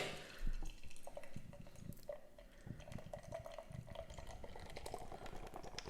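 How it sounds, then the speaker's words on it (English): Wicklow Wolf Mammoth IPA poured from a can into a glass, a steady close gurgling flow with fizzing and crackling bubbles throughout, fairly quiet. "Let's get the beer into the glass."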